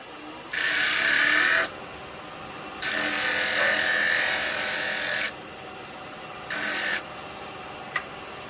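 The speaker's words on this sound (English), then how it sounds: "I'm going to sand these as I go" Small turned wood pieces are sanded on a lathe during a woodturning Christmas scene project, making three bursts of loud, bright hissing abrasion separated by short pauses, with a steady low motor hum beneath.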